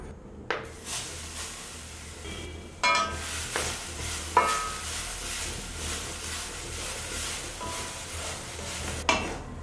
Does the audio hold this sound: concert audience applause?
no